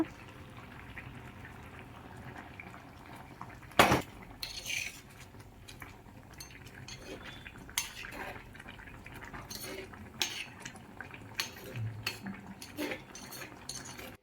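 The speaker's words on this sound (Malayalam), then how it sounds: "ഈ ഒരു സമയം അടപ്പ് തുറന്നു കൊടുത്ത് ചെറുതായിട്ടൊന്ന് ഇളക്കി കൊടുക്കുക" Pot lid lifted with a sharp metallic clatter, then light scraping and clinks as a spoon stirs sardine curry (Kerala chala meen aviyal) in the pot, with faint bubbling between the utensil sounds.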